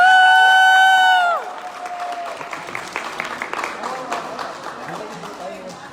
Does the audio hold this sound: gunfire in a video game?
no